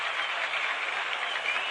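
Crowd at a 1967 World Series baseball game in St. Louis applauding Cardinals left fielder Lou Brock, a steady, even wash of distant clapping from the stands with no break.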